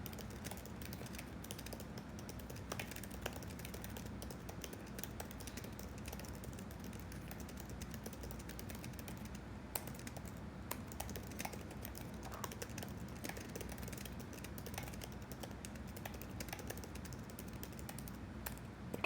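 Steady typing on a computer keyboard, dense clicking keystrokes in a continuous run, fairly quiet and close, with no voices.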